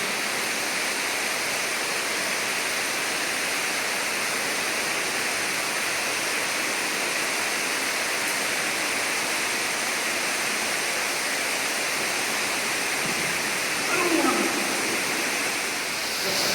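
Water pours down a vertical cave pit in a misty cavern, a loud, steady rushing roar that fills the space without letup, with a brief disturbance near the end.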